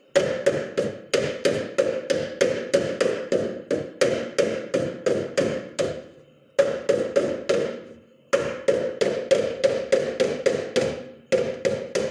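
Rapid, evenly spaced metallic hammer blows ring out on a Ford Pinto quarter panel being straightened with a hammer and dolly, in long runs with brief pauses between bursts, close and loud.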